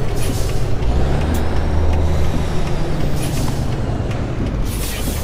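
Truck with air brakes in Euro Truck Simulator 2, a heavy rumbling engine and steady road roar with short hissing bursts of air brake release, loud and continuous.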